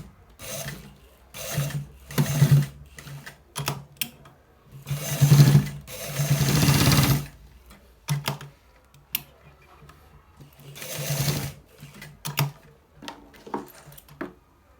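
A sewing machine stitches a designer collar shirt in repeated short and longer bursts, starting and stopping with pauses of quiet between runs.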